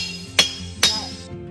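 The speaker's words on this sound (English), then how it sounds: "Aptly named because of the sound that it makes when it's hit with a metal object." A metal blade strikes the trunk of an ironwood (shiwanwako) tree in the Amazon jungle, giving two sharp, ringing clinks about half a second apart, each leaving a bright metallic ring that fades.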